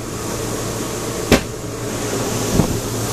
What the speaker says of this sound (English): now I'm going to turn this air conditioner off